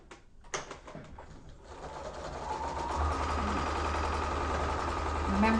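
A sewing machine stitching quilt pieces starts with a few clicks and handling noises, then settles into a steady, close mechanical whirr that builds slightly in loudness and runs to the end.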